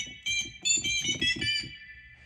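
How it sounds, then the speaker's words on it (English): A VOX Continental organ switched to its reeds voice plays a short harsh, buzzy chord phrase with bright upper tones, over a pulsing low beat, alone and near. "Now if you switch it and go straight to the reeds"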